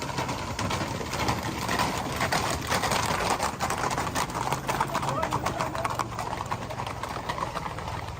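Horses pull against quads and scooters at a tourist attraction, with steady clip-clop hoofbeats and mechanical engine noise under continuous speech, dense and busy throughout.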